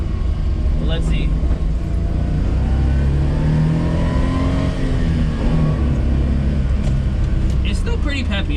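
A kei van pulls away in four-wheel drive, its small engine droning and rising in pitch steadily as it gains speed, loud and close from inside the cabin, with a person talking over it.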